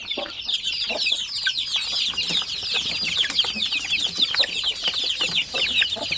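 A dense, close chorus of young chicks peeps and clucks nonstop around feeding time, high chirps overlapping with no pauses.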